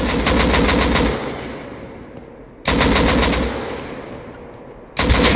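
An M2 heavy machine gun fires in a video game in three sustained, thudding bursts, each ending in a fading echo before the next starts, loud and close with no voices over it.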